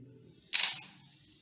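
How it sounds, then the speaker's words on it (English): A Canon EOS 60D DSLR fires its shutter once, a single crisp mechanical snap with a short trailing whir, close and clear over a faint low hum. "Now I am taking a picture."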